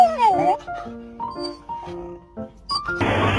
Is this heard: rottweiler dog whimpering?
yes